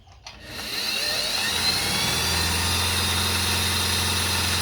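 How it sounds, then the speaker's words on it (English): A sewing machine whirs up from silence into a fast, steady mechanical hum as it sews a pattern, holding evenly throughout, with no talking. "listen to this machine while it sews. It's so fast and so smooth."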